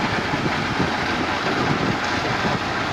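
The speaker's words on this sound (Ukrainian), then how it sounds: "І це так проходиться уборка цибулі. Картопляним комбайном." A steady, loud mechanical rumble and broadband roar from a potato combine harvesting onions, running continuously, with some wind noise and no voices.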